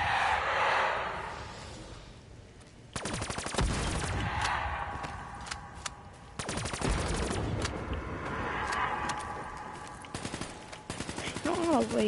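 Rapid gunfire from a video game round fought alone, sharp bursts of shots arriving in clusters with pauses between volleys, loud and close over a busy game soundscape.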